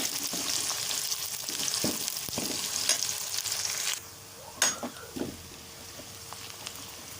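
Two medium onions frying in a pan give a steady close sizzle, broken by a few clinks and stirring sounds, then a quieter sizzle with occasional sharp pops and scrapes; no talk.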